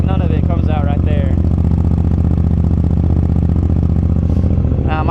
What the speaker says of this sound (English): that is absolutely the cheapest and best sounding exhaust mod that I can think of for this bike